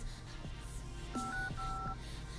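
Dialer keypad tones on an HTC HD2 running Android 5.1.1 Lollipop: a few short, close beeps in quick succession over a quiet background hum.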